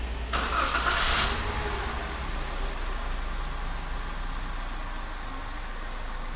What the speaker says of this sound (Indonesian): Sekarang mesin kita nyalakan.